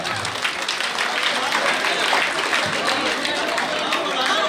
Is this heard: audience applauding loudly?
yes